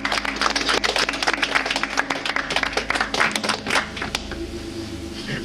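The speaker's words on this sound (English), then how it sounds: "I think we should also give a round of applause for all the jury members as well" A small group claps for the jury at the finale of a backyard survival game, with steady, dense clapping that thins and fades toward the end.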